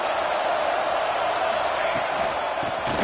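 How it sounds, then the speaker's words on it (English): Football stadium crowd at Oregon vs TCU, a steady loud roar of massed voices filling the space with a few rising cheers toward the end. "Listen to the crowd energy here in the early going."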